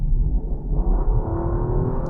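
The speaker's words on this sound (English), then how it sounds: "Ooh, a bit of a roar from the exhaust." A Rolls-Royce engine and exhaust roar under full throttle, a steady, loud, close rumble that builds gradually in pitch as the car accelerates, heard alone without talk.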